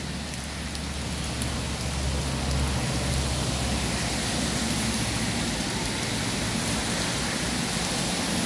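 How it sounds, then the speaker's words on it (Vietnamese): Steady rain pours by a roadside near an industrial park, a dense, even hiss with a low rumble beneath it, constant and fairly loud for the whole stretch with no voices. "chứ đợi trời tạnh mưa thì không biết đến bao giờ"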